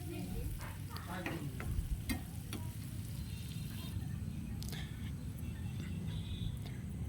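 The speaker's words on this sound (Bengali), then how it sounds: "এখানে হচ্ছে কুচি করা পেঁয়াজ দিয়ে দিলাম পেঁয়াজটাকে ভালোভাবে বেরেস্তা করে নিতে হবে" Chopped onions frying in ghee for kacchi biryani, a steady close sizzle with occasional stirring scrapes and light clicks in the pan, continuous and fairly quiet throughout.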